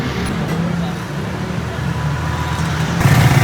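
Traffic is heard from a moving rickshaw on a Lahore road. Steady engine rumble and road noise hold throughout, and a louder vehicle rises near the end.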